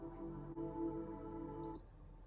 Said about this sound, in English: and then you should hear the second beep in 5 seconds.